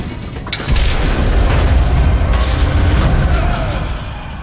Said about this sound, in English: Explode him.